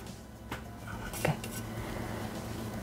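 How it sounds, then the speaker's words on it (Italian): A spatula scrapes down the inside of a Thermomix mixing bowl while strawberry tart dough is being made, giving a few faint clinks and scrapes against quiet background hiss. "Riunire sul fondo del boccale con la spatola."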